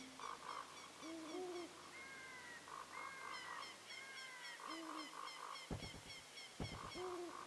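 Owl hooting in the video game The Legend of Zelda: Ocarina of Time, several soft rising hoots repeated over a quiet game-music backdrop, with two sharp thumping beats near the end.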